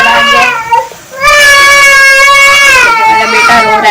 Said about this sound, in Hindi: मेरा बेटा रो रहा है।